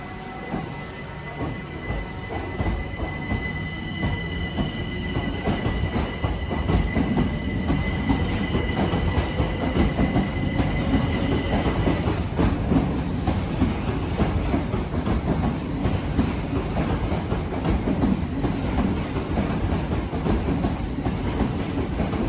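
Simulated electric passenger train in Train Sim World 2 pulling away toward Gatwick Airport, with a steady rolling rumble, clickety-clack of wheels over rail joints and a faint whine, loud and continuous with no talk.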